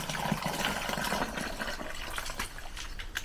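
Water is poured onto ugwu plants in a garden bed, a continuous close splashing and trickling that fades slightly toward the end.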